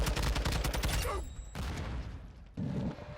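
Gunfire in Modern Warfare 2, a rapid burst of automatic shots up close that stops abruptly, followed by quieter game ambience and a later short thump.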